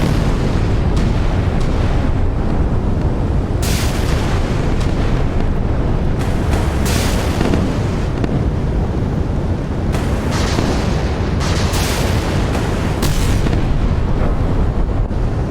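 A dense, continuous roar of booming blasts and rattling gunfire in a naval warfare video game, including 30mm Gatling guns, loud and unrelenting, with sharper bursts cutting through the rumble.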